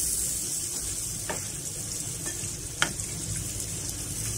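A spiced mixture of chickpea lentils or liver with garam masala and salt cooks covered in a pan, a steady low sizzle with a couple of faint stirring clicks, close and alone.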